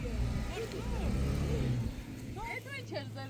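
A Toyota off-road vehicle pulls in at the Udabno Challenge 2026 off-road event with a close, deep engine rumble that eases off after a couple of seconds, while people talk nearby.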